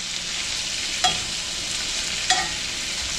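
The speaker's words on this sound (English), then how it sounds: "You see how nice and brown those onions getting?" Onions sautéing and browning in a pan for steak and cheese hoagies with mushrooms and peppers: a constant close sizzle broken by two brief stirring scrapes, with no one talking.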